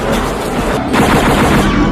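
Rapid automatic gunfire from an action movie scene, a dense, loud continuous burst of shots with echoing blasts throughout.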